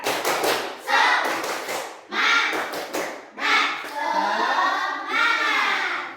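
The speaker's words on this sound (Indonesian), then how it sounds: "Kita tepuk semangat dulu" A classroom of children performs tepuk semangat, bursts of sharp, patterned group clapping in quick rhythmic sets alternating with voices chanting together in unison.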